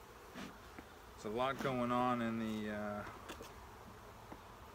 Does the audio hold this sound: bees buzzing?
yes